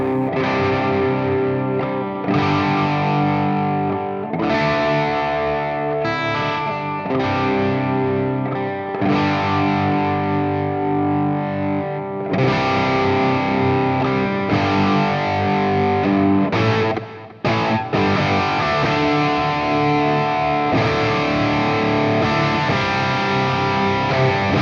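Fender Tom DeLonge Signature Starcaster electric guitar played through heavy distortion, loud sustained chords and riffs with short breaks, alone without talk.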